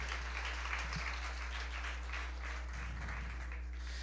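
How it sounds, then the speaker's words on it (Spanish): An audience at a church finance seminar applauds, a dense, even wash of clapping that holds steady for a few seconds at moderate distance, with no speech over it. "Dale un aplauso fuerte al Señor."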